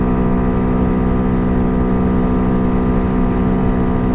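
A Honda Hawk DLX dual-sport motorcycle held at full throttle around 7,500 rpm while climbing a slight hill, its engine a loud, constant, unbroken drone with heavy wind rush throughout.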